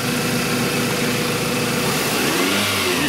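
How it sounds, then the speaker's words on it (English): A Toyota engine with an EGR insufficient-flow fault is revved, a loud continuous mechanical drone that rises and shifts toward the end, heard close with no talk. "And when you rev it"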